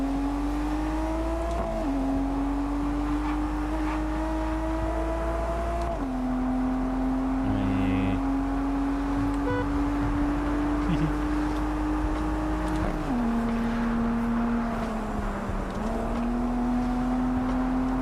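Car engine in the racing video game Test Drive Unlimited: Solar Crown, a steady droning hum that steps up and down in pitch through gear changes while drifting through corners, with occasional faint clicks and a person talking over it.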